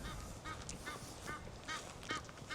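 Ducks or geese calling near water on a bright day, a series of quacking, honking calls repeating every half second or so at a moderate distance, faint over a soft outdoor background.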